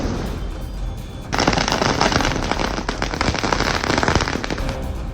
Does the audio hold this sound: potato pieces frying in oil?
no